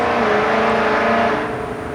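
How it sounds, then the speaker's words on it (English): A Mustang GT Scat Pack Hellcat passing a house, its engine a loud steady roar that holds throughout and eases slightly toward the end. "the Mustang GT Scat Pack Hellcat that's passing my house right now"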